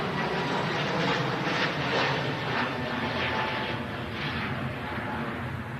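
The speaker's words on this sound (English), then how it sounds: "Here we go, Jet 2 A321 Neo." A Jet2 Airbus A321neo airliner departs toward Tenerife South with a sustained loud engine roar, steady throughout with gentle swells, heard alone without talk.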